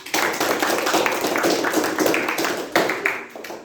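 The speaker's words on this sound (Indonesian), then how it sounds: "coba dulu tepuk tangan pada kelompok 2" Classroom students clapping for a group after their presentation, a close burst of many hands clapping together for a few seconds and then tapering off.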